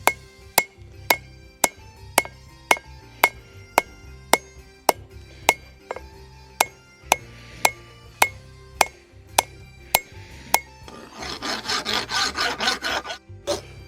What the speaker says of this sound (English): I'm taking this rasp, which is like a really, really coarse file, and I am working up the edge of the knife